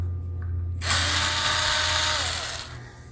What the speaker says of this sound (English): I'm going to go ahead and just use my cordless.